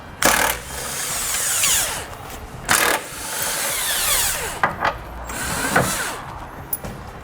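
A power tool with socket removes trailer hitch mounting bolts on a 2017 Dodge Grand Caravan, with several loud bursts of whirring ratcheting and clattering between quieter stretches of mechanical handling; no talking.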